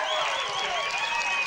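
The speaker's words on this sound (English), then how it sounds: "listen to the crowd. They appreciate that bit of skill" A large crowd at a local football grand final roars and applauds a spectacular goal, a dense, sustained wash of cheering and clapping filling the short moment.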